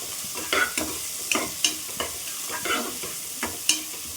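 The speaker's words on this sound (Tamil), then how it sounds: "தக்காளி வதங்குறதுக்காக கொஞ்சோண்டு உப்பு போட்டுக்கலாம்." Tomatoes with a pinch of salt saute in a pan for mutton curry, with a close, steady sizzle broken by repeated sharp scrapes and taps of a spoon stirring against the pan.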